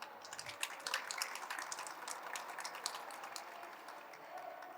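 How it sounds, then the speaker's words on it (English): A conference audience claps for a panel of speakers, a faint, steady patter of many hands heard from a distance, with no talking over it. "please bring your hands together to give a big round of applause to our panelists"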